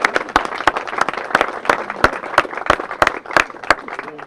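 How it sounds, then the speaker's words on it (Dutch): Audience at the opening of a hobby centre in Boxmeer claps in a lively, uneven burst, with sharp individual claps standing out over a dense patter that carries on throughout. "applaus hier"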